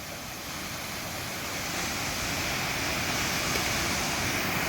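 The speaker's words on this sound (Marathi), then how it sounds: "तर हे पहा मित्रांनो कसा धबधबा पडतो ते।" A waterfall in a dense forest gives a steady, loud, broadband roar of rushing water that builds slightly and stays constant throughout, with no voices.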